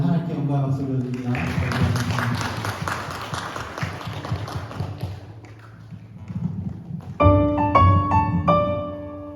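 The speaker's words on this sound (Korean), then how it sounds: "우리 하나님께 영광 박수 올려드립니다." A church congregation applauds at the close of a Sunday worship service. The clapping swells and thins over several seconds, and then keyboard music begins.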